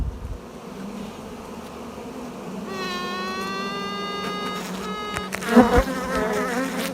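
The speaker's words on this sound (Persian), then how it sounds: "صدای ویز ویز بالهاش حالت خاصی پیدا میکنه که این صدا برای خیلی از زنبوردارها آشناست" Inside a honeybee hive, a queen's wings make a high, steady buzzing tone that rises over the dense hum of the colony and carries on to the end.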